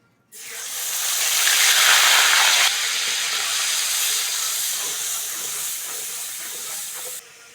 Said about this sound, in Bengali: তেলের মধ্যে এবার পেঁয়াজ বাটাটা দিয়ে দেবো